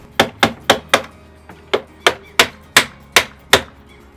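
A hammer knocks a Yale Doorman lock plate into a door in about twelve sharp, evenly spaced blows, loud and close, with a brief pause near the middle.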